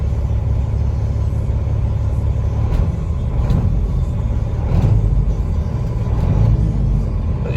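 A Cat-engined 2016 Peterbilt 389 glider kit truck idling with a little throttle: a deep, steady diesel rumble, close and loud, with slight swells in the low end and no voices.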